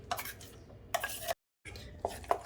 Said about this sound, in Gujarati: આપણું બેટર દળાઈ ગયું છે અને થોડું ફેટશું।